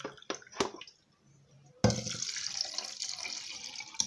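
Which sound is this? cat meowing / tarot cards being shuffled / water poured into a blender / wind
water poured into a blender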